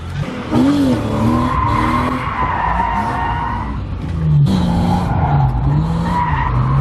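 A BMW E36 drift car spins out, tires squealing and skidding in long, loud wavering screeches over engine noise, with a second burst of squeal after a brief lull.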